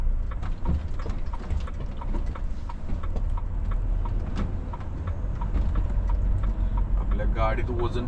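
A fully loaded 24-ton truck on a run from Italy to Spain, its engine laboring under the weight as a steady low rumble fills the cab, with small clicks and a brief tonal sound near the end.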